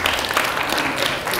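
Live audience at a speech event clapping in response to the speaker, a dense continuous burst of applause filling the whole moment, fairly loud and close.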